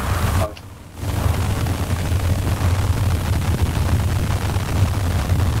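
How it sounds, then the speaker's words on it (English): Fireworks going off in the video game GTA 5: a sustained, dense roar of bursting blasts after a brief dip near the start, continuous and loud throughout with no talk. "the warning fireworks are going off first"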